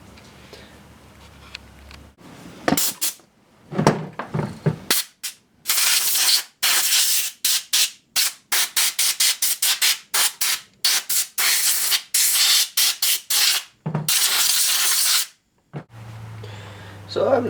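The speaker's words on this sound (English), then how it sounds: "get my compressor out and blow all the crud around it off of them" Bursts of compressed air from an air compressor blow crud off motorcycle carburetors, coming as a long run of sharp, loud hissing blasts that vary from brief puffs to sustained sprays, with short quiet gaps between them.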